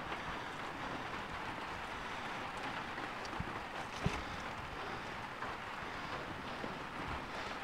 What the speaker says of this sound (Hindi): क्योंकि बारिश हो रही है